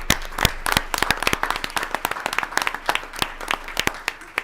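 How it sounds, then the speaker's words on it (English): A small group at a school board meeting claps in a lively round of applause, many close hand claps overlapping at an even pace, with no talking. "So I just want to give them a round of applause."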